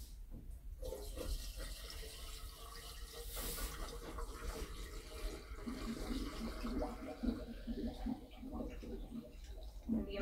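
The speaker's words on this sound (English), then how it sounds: "Now we can fill up the priming tank." Fluid pours steadily into the priming tank of a FluidWorker machine, a continuous close watery rush with gurgling for about ten seconds, moderately quiet, with soft voices in the background.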